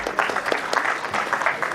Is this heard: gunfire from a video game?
no